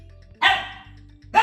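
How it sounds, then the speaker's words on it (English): A pet dog gives two loud, close barks, the first drawn out and the second cut short at the end, over a steady low hum from a game soundtrack. "I'm sorry about my dog."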